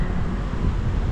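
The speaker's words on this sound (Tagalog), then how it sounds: "Ayan, medyo mahangin ng mga kadudoy oh." Strong wind gusting through a street in Taiwan as a typhoon approaches, a loud low rumble buffeting the microphone steadily for the whole moment.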